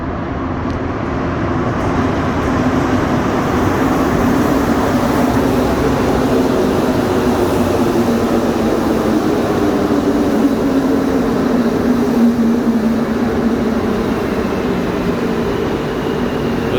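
A Montreal Metro AZUR train arrives at Berri-UQAM station, a loud, sustained rumble that builds slightly and holds steady throughout, with no voices.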